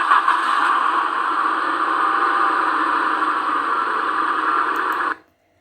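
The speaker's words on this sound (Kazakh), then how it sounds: "Ал осы машина қандай дыбыс шығарады екен?" A car engine runs at a steady, even idle, close and fairly loud, holding one unbroken tone for about five seconds before cutting off abruptly into silence.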